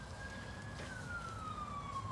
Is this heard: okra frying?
no